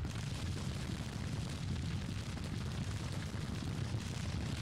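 Distant artillery in a Grand Tactician: The Civil War battle, a steady low rumbling wash of cannon fire and battlefield noise, faint and continuous with no clear separate shots.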